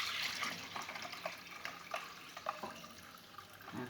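Water poured from a bottle holding about a quarter litre into a lemon juice mixture for a Ramadan drink, a faint, steady trickling splash with small drips and clinks, heard close with no talking.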